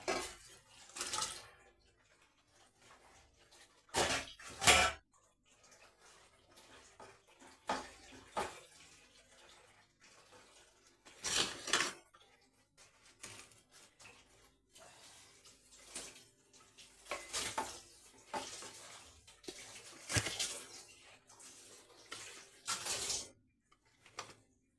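Leftover water from boiling carrots goes into a cooking pot for carrot payasam, heard as intermittent pours and splashes with clanks of metal pots and utensils in a quiet kitchen.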